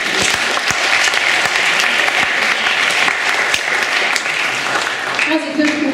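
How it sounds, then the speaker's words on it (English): Sustained, loud applause from a seminar audience at a youth jazz event, dense clapping filling the room steadily for the full six seconds, with a faint voice briefly near the end. "Big round of applause."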